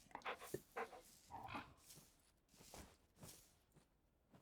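A dog in the video game Lorelei and the Laser Eyes panting and whimpering softly near a bench, with light padding steps, faint and close, no talking.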